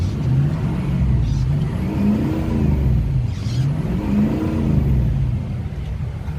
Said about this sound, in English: Engine's very healthy.